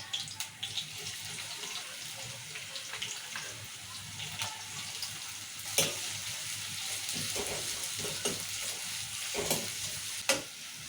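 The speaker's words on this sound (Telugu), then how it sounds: "ఉల్లిగడ్డలు ఎర్రగా వేసుకోవాలి" Chopped onions and green chilies fry in a pan of oil for a bottle gourd curry, a soft continuous sizzle with occasional sharper crackles and stirring clicks, fairly quiet and close, no voices.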